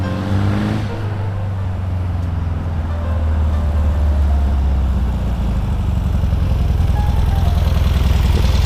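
A 1966 VW dune buggy's air-cooled motor runs loud and close, holding a steady low rumble with a fast, even pulsing throb, brief revving early on, then settling into a rough idle.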